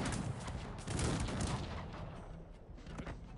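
Cannon canister shot fire in the video game Cossacks 3, a dense rumbling barrage of overlapping shots and booms that stays loud, then thins slightly toward the end.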